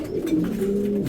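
Racing pigeons coo in a short, low, steady burr, close by and alone.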